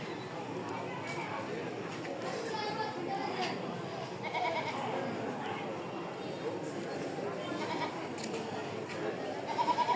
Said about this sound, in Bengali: এখানে দুটো ছাগল ভেবা করতেছে।